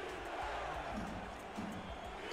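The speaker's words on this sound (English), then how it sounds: "Crowd here at the Robbers Cave getting on their feet and trying to get a stop" A crowd at Robbers Cave, on its feet during a football game, gives off a steady, dense roar of cheering with scattered thumps mixed in.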